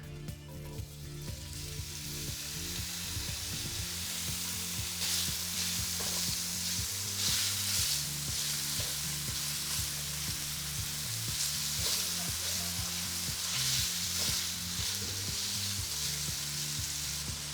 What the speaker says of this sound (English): I'm just gonna cook the sausage until it's brown, so for about 3 to 5 minutes.